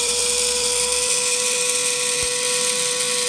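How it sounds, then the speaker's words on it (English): A kitchen electric grinder whirs steadily at high pitch as it grinds food, a loud, even motor drone holding without pause and close to the listener. "Now I'm gonna grind it up."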